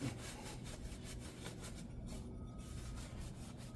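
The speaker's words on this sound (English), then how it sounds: "But cleaning it up both sides, just kind of rough scrubbing it." Front wheel hub of a 2018-2021 Chevrolet Equinox 2WD being scrubbed clean, a continuous rough rhythmic scraping back and forth, close and steady throughout.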